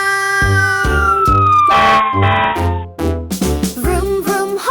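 A loud, wailing fire truck siren sweeps downward in pitch over a driving musical backing in a children's song, close and prominent.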